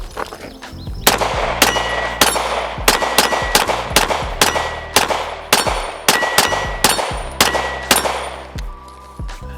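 A rapid string of close, loud gunshots at a shooting range, around a dozen fired in quick succession, each sharp report trailed by a faint metallic ring.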